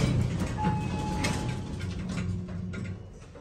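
A traction elevator in a university library slows to a stop, a steady low mechanical rumble that fades slightly toward the end with faint clicks.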